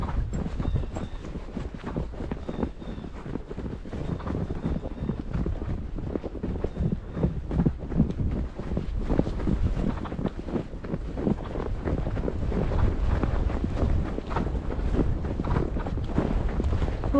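A draft horse lopes uphill with a rider, its hoofbeats thudding in a steady rolling rhythm under heavy wind rumble across the microphone.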